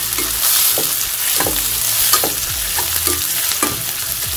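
Onions and chilli sautéing in a kadai pan for kadai paneer: a steady close sizzle of frying with repeated scraping stirs of a spoon against the pan, no talking.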